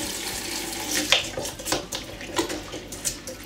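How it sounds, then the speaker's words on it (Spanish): Washing machine parts, including the detergent drawer, rinsed under a running tap: a steady splashing stream broken by water hitting plastic and the parts being handled, close and moderately loud. "ahora lo voy a limpiar bajo el grifo"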